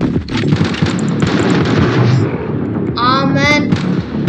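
Gunfire from the Johnny Trigger mobile shooter game during a boss level, a dense run of sharp game shots and impacts under an energetic mix, with a bright chirping effect near the end while a player talks over it.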